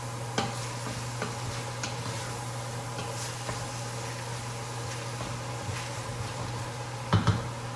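Soy sauce sizzles in a hot pan as a spatula scrapes up the browned bottom bits, a steady soft frying hiss with light scraping ticks and a brief clatter near the end.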